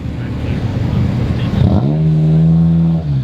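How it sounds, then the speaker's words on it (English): Featured cars roll in at a Formula Drift event load-in near Long Beach, one engine idling and rumbling up close, then revving to a steady, rising drone. "Cars are loading in now, all the featured vehicles."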